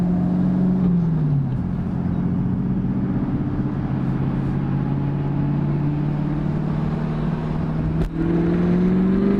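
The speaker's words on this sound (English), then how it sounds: "A little bit louder than stock for sure, just cruising around, but you can still hear it more, so it's more of a deep tone." A 6th-gen Chevrolet Camaro fitted with an MBRP axle-back exhaust cruises along, giving a deep, steady drone with a brief pitch shift as it changes speed, loud and continuous with no talking.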